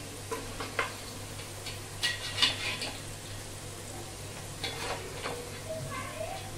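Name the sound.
potatoes frying in oil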